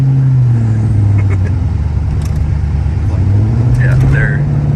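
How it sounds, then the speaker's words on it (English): A police car with a snappy exhaust runs loud and close from inside the cabin, its engine drone dipping and rising in pitch as it revs, while people talk over it. "Sorry for the snappy exhaust."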